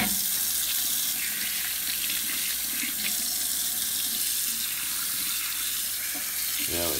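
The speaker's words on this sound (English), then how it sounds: "Let me just put some hot water on this today." Hot water runs steadily from a tap into a sink, a constant close splashing hiss that holds for the whole stretch.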